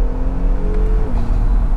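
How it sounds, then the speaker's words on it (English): An Acura NSX with twin turbos pulls as the driver gets back on power, a loud close engine drone with a rising then falling whine and steady road roar, no talk. "Whenever I get off the throttle, you can hear the turbos, right?"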